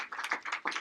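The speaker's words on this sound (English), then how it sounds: "If we could give them one more round of applause" Brief burst of audience applause at a sales team's opening session, dense overlapping claps swelling in two waves over under a second, moderately loud and without speech.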